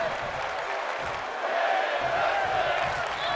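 Crowd noise from a WWE 2K22 wrestling video game match, a steady loud roar of cheering and applause with a commentator talking over it throughout.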